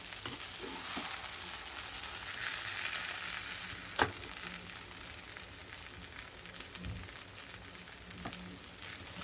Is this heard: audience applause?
no